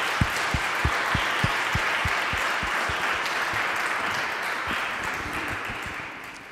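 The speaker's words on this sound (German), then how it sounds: "jetzt dürft ihr einmal für alle zusammen klatschen" A concert audience applauds all the musicians together at a live Te Deum CD release concert, with steady clapping that fades toward the end.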